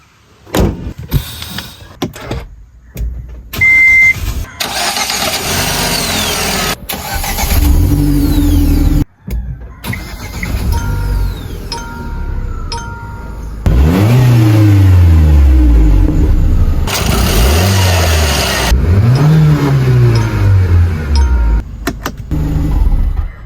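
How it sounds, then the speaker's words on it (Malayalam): A petrol MG Hector car: door thuds and clicks, then the engine cranks and catches, settling into a loud idle with several rising and falling revs up close. "അപ്പം നമുക്ക് വണ്ടി ഒന്ന് ജസ്റ്റ് സ്റ്റാർട്ട് ചെയ്ത് നോക്കാം."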